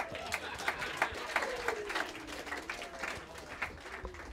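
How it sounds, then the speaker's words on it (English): Audience applause in a small jazz club after a quartet's set, steady close clapping with a few voices mixed in, fading slightly toward the end. "Give yourselves a round of applause."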